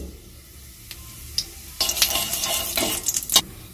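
Whole cumin seeds hit hot mustard oil, starting with faint crackles and then bursting into louder sizzling pops and spatters in the pan for a few seconds.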